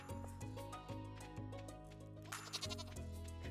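Goat bleating in the farming video game Stardew Valley, several wavering bleats in a row over a gentle tonal game backdrop, moderately loud and with no talk.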